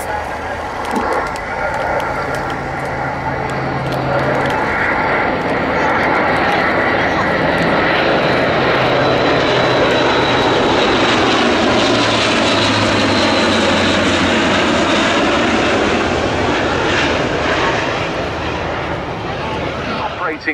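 An Airbus A400M Atlas C-1 turboprop transport flies past at the RAF Cosford air show. A loud, sustained engine roar swells and fades with a shifting propeller drone, and an announcer's voice carries over a public address system.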